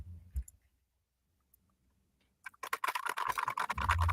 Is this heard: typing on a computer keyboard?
yes